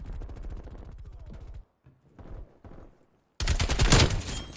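Rapid automatic AK-47 fire in Call of Duty: Cold War, a loud rattling burst, then a pause with faint scattered sounds, then another dense, louder burst of close gunfire.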